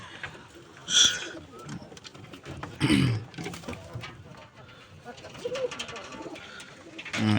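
Domestic pigeons in a loft, including a newly paired couple, coo in several low throaty bursts, close by, amid rustling and a voice talking in the background.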